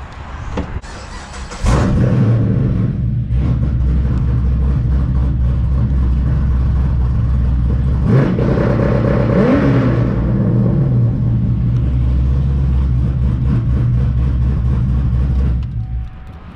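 A fifth-generation Chevrolet Camaro SS starts up and holds a steady, loud rumbling rev on two-step launch control for about fourteen seconds before cutting off, close and without talk.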